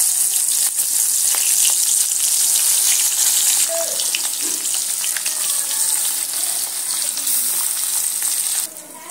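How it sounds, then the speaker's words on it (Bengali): Marinated koi fish frying in hot mustard oil, a steady loud sizzle and crackle running throughout with a few faint utensil clinks, no talking. "এবার ম্যারিনেট করা মাছগুলো সুন্দর করে আমি তেলের মধ্যে দিয়ে লাল লাল করে ভেজে নেব"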